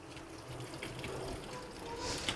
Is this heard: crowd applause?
no